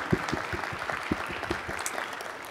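Audience applause after a Spark Summit East conference talk on fast indexes for big data, a steady patter of clapping from a room of listeners lasting a couple of seconds.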